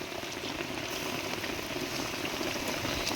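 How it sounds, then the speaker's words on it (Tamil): Water hitting a pan of simmering egg fry gravy gives a steady, dense bubbling hiss that runs without a break, close and moderately loud, with no voices. "தண்ணி ஊற்றிக்கலாம்."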